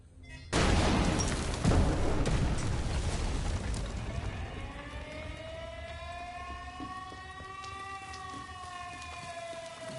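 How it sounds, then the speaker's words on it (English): A loud in-game explosion from The Division 2 bursts near a base wall with a sharp onset, then a long rumbling decay and rising tonal whine that fades slowly over several seconds. "And look how big the explosion gets."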